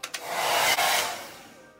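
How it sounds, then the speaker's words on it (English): Hair dryer blowing on wet acrylic paint for a bloom pour technique, a close, loud whooshing roar after a couple of clicks, with no voices, fading slightly toward the end. "A little bit of hair drying."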